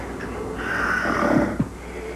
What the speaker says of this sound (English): He snores and then stops breathing.